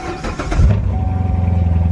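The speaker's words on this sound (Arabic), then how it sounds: "هسه راح اشغل السياره." A Chevrolet Corvette engine cranks and catches in a workshop, a brief rising churn settling into a steady, close, rumbling idle with a faint whine above it.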